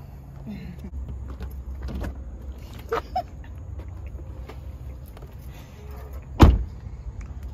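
A car door is opened with a sharp, close mechanical clunk near the end, preceded by a couple of smaller clicks from the handle and latch over a low idling rumble.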